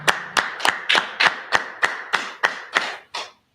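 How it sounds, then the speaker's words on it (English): About a dozen sharp, evenly spaced hand claps from a small group at a Hanukkah-style Feast of Dedication gathering, crisp and close, in a steady rhythm that ends with a short ring-out. "let's clap it up"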